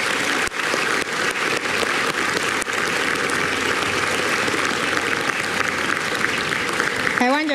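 An audience gives warm, sustained applause at a formal national-day speech event, with dense, even clapping filling the hall from start to finish.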